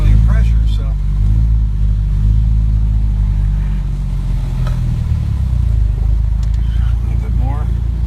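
A 1961 Triumph TR3B on a road test, its engine rumbling loud and close as it drives and shifts down through the gears, with someone talking over it.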